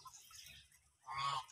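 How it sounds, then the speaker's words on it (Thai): Newly hatched Muscovy ducklings or a duck on a farm give soft, faint chattering, then one louder, drawn-out call near the end. "เสียงมันดังเหมือนอิบอิบอิบอิบหรือว่าไอ้เจี๊ยบเสียงเองเหรอ"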